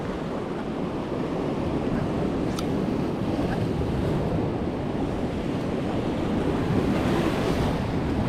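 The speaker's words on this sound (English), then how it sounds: "Just the wind." Steady wind blowing across open water on a Florida fishing outing, a constant broad rush with surf-like wash, loud and unbroken for the whole stretch with no talking.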